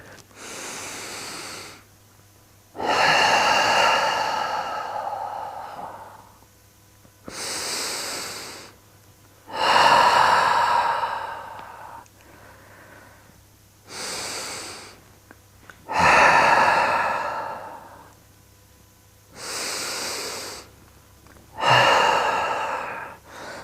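Slow, deep breathing during a cat-cow yoga stretch: loud airy inhales and exhales alternate with short pauses, close and steady, roughly eight breaths in all.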